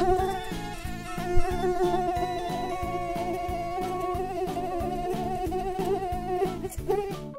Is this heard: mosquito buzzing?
yes